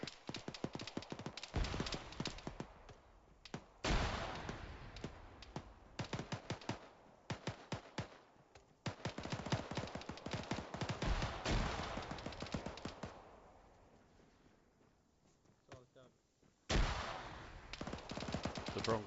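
Gunfire crackles during a military field training exercise outdoors, with bursts of rapid shots and clustered volleys separated by short pauses, some near and loud, others thinner and farther off.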